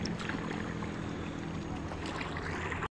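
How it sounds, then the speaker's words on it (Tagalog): A choppy sea rushes and churns steadily near a small fishing boat, a continuous broadband wash of water and wind with no voices over it. "Maingay na yung ano, dagat."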